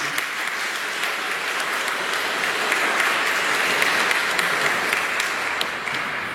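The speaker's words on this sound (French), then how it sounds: "Alors merci encore une fois, on peut les applaudir." A church congregation at a Mass applauds in a dense, even wash of clapping that holds steady for several seconds without talk.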